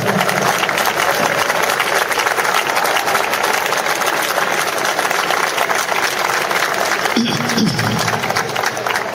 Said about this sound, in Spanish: Por favor, un gran aplauso para mis compañeros de Bueu